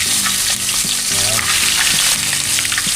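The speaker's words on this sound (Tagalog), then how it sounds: "So prito po natin itong mga salinyasi." Steady, loud sizzling of fish frying in a hot pan, with occasional clinks and scraping, continuous throughout.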